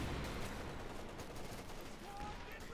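Gunfire in Company of Heroes 2, a Jagdpanzer and American troops exchanging shots in a 1v1 match, with dense crackling small-arms bursts and scattered heavier reports over a constant battle din.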